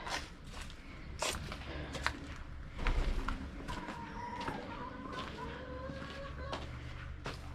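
Backyard chickens cluck and crow close by, a steady run of short calls and a few longer rising notes over a low rumbling background, with light shuffling steps.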